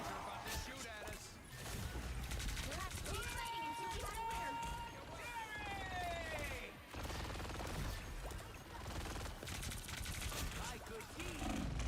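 Enemy gunfire in a video game match, scattered shots and bursts mixed with crashes and game effects, partly under ongoing chatter and other game sounds.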